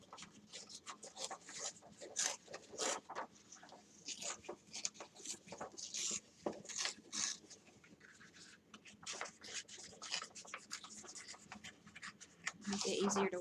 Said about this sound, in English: I'm going to tear it in strips